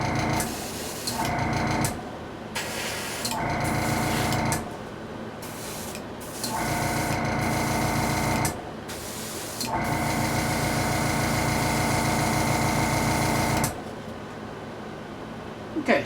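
A spray gun hisses in a series of bursts over a masked scale model, several short ones followed by a long continuous spray, with brief pauses between them.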